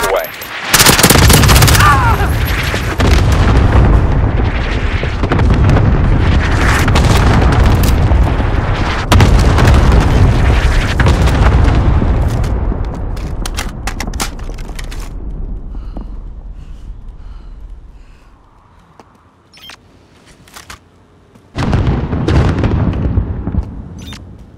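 Airstrike in the Warzone video game on PS5: a loud, dense barrage of booming explosions and rapid gunfire for about fifteen seconds, fading to a low rumble and scattered cracks, then a final burst of blasts near the end.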